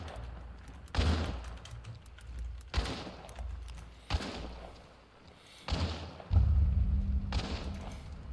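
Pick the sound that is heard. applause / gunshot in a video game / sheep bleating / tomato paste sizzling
gunshot in a video game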